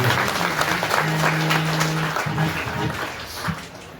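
An audience at a spiritual discourse claps together in sustained, dense applause heard up close and loud for the whole stretch, with faint voices mixed in.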